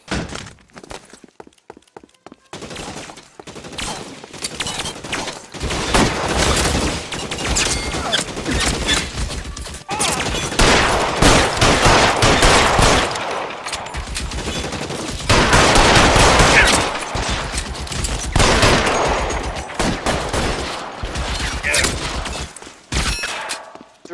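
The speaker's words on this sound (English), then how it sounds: "Lay down some covering fire!" Gunfire rings out in a shootout in the video game L.A. Noire: bursts of rapid automatic fire and single shots, loud and close, with some breaking and shattering impacts mixed in.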